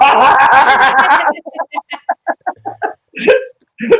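A loud rooster-like squawk bursts out, followed by a rapid series of short, sharp clucks, close and clear.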